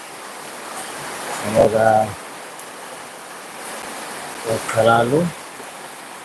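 Heavy night rain falls as a continuous broadband hiss, with a voice speaking briefly twice over it.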